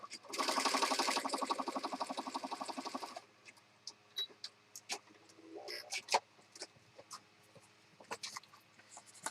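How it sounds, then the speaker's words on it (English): A sewing machine stitches an oversized blue and pink paper journal, a rapid rattling run lasting about three seconds up close, followed by softer paper rustling and handling noises. "So I'm just going to stitch it real fast."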